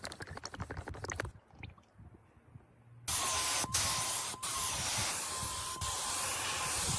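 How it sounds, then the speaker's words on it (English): Primer is sprayed onto bicycle parts, a loud steady aerosol hiss in bursts with short breaks, following a quieter stretch of faint clicking and handling noise. "The prepped components are then coated in a durable primer, laying the foundation for a flawless silver finish."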